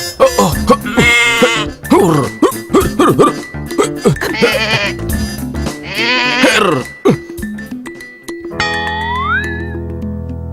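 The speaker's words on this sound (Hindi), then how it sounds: "ये बकरी कहाँ से ले आए हो तुम?" A goat bleats repeatedly in a Hindi animated Akbar Birbal story, loud, close, wavering cries in quick succession, ending with a higher, drawn-out bleat.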